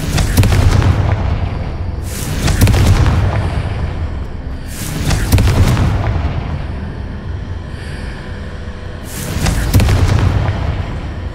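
Confringo blasting-spell explosions in the Hogwarts Legacy video game come as four loud, booming bursts spaced about two to three seconds apart, each fading into a rumbling tail, with no speech.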